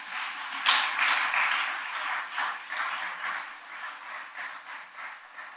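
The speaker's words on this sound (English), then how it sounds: "That deserves a round of applause." Applause from the audience at the 2023 Guilford County State of the County Address, a steady patter of many hands clapping that swells early, then slowly thins and fades, heard at a moderate distance with no talking.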